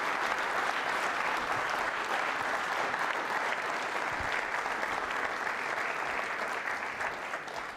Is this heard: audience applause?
yes